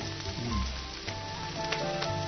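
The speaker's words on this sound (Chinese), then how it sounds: "肉馅儿炒烂" Minced pork stir-frying in a hot pan, a continuous close sizzle with bright crackling, under a faint background tone and occasional scraping accents.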